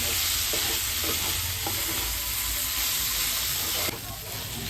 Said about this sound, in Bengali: এটা ভালো করে নাড়িয়ে নামিয়ে নেব